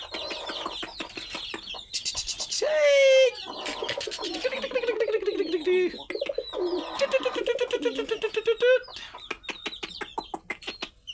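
Pigeons coo nearby in a mix of low rolling calls and fluttering sounds, with other bird clucking mixed in, fairly loud and uneven over several seconds.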